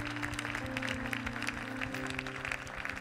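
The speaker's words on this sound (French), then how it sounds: "Amen, acclamons le Seigneur." A church congregation claps during a service, with steady, dense applause and a held musical tone underneath, sustained and fairly distant.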